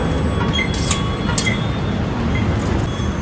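A Bangalore metro train rumbles steadily with a loud, continuous low roar, with faint high squeals and clicks on top and no clear talking.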